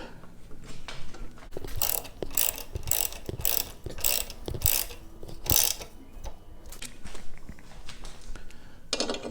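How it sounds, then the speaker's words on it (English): Bracket bolts on a Kawasaki Versys X 300 being tightened from underneath with a ratchet: close, quick bursts of metallic clicking in irregular runs, separated by short pauses and faint handling noise, with no talking. "It's just a matter of tightening up the bolts."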